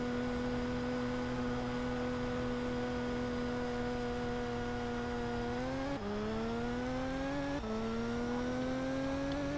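An Indycar engine in the Monoposto racing game holds a steady high whine that dips twice as gears shift, then climbs again, loud and close with no voices over it.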